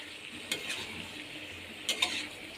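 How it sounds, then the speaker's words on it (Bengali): Jackfruit cooked with spices for a vegetarian curry sizzles softly in a pan, and a few brief scrapes and clinks come through as the spoon works it through the masala. "দিয়ে ভালো করে এঁচড়টাকে মশলার সাথে মিশিয়ে নেব।"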